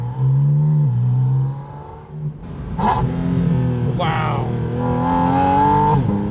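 Porsche 718 Spyder RS engine revving loudly, a loud rasping unmuffled tone that swells, dips and climbs again through repeated throttle blips, heard close with a short exclamation from a person.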